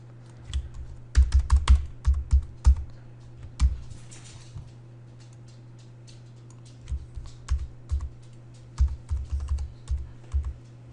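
Computer keyboard keys pressed during photo editing work, sharp clicks arriving in short bursts and scattered taps with pauses between, close and fairly quiet over a steady low hum.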